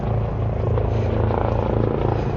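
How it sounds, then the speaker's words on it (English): Helicopters flying overhead near Roosevelt Island in New York, a loud, steady rotor rumble with a rapid pulsing throb, sustained throughout and alone without talk. "A lot of helicopters flying."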